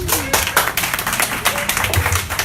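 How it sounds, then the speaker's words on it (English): A couple of people clap during an online conversation, a sparse scatter of uneven handclaps close to the microphone with faint talk underneath. "And I hear a couple people clapping."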